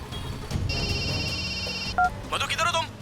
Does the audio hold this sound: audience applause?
no